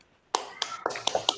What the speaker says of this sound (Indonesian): Kasih tepuk tangan buat Citra dan Ani